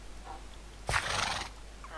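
A skeleton horse in Minecraft lets out a single loud whinny lasting about half a second, then a fainter tail of sound. Quiet background hum before and after, with no talking.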